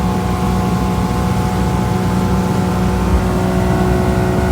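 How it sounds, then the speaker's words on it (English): Johnson 150 Ocean Pro outboard on a 20 ft Boston Whaler Revenge runs at a steady, loud, close idle hum as it is trimmed, with no talking over it. "The engine lifts up and down fine."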